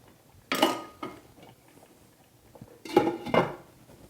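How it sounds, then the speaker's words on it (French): Broth poured into couscous semolina and stirred in, heard as two clattering bursts of a utensil against a pot or dish with faint clinks and scraping between, close and fairly quiet. "je vais rajouter un peu de bouillon dans la semoule"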